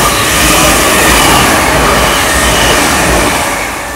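A Class 380 passenger train rushes past close by at Howwood with a loud, broad roar and rattling, the noise swelling and then easing slightly as it goes.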